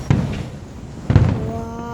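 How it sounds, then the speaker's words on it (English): Fireworks explode over Tomball in two deep, booming bursts about a second apart, heard at a moderate distance with a thin whistling tone trailing after the second. "Yeah, they're fireworks."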